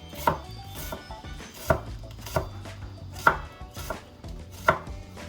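A kitchen knife thinly slices an onion for Vietnamese beef pho, giving sharp, close chops against a cutting board that land at an uneven pace, roughly seven strokes, with no talk.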